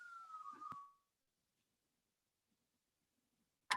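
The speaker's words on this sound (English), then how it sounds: "It was just that I had a siren in the background." A distant siren wails in the background for about a second, a thin rising-and-falling tone that fades into near silence before a sharp click at the end.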